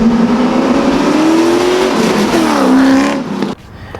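A C5 Corvette fitted with Borla Stinger catback exhaust revs loudly and close by, its engine note climbing and dipping in a throaty snarl before cutting off sharply.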